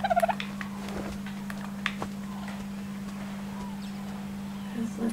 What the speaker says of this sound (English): Ooh, a dodo.